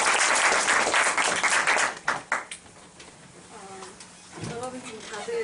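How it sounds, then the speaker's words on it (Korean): Applause from a class audience during a short student speech rises loudly for about two seconds, then thins to a few scattered claps and fades as a voice begins speaking. "박수 한번 드리겠습니다"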